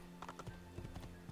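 Assassin's Creed 2 horse hooves clip-clop in a quick, uneven rhythm over a steady background hum, moderately close.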